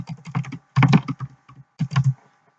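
Typing on a computer keyboard, close and clear, in three quick bursts of rapid key clicks separated by short pauses.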